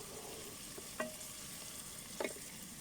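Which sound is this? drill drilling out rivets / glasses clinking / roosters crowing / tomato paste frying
tomato paste frying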